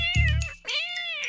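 Cartoon cats fighting and meowing over a piece of bread in a Hindi children's animated story, with a sharp yowl followed by a long drawn-out meow, close and loud, with no talking.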